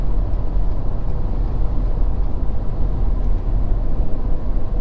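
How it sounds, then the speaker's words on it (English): A 2020 Ford Super Duty with a 10-speed transmission on 37-inch tires engine braking down a long, steep hill while towing a heavy load, giving a loud, steady low drone that stays even throughout. "With just the engine brake and, you know, the truck using its transmission to keep its speed."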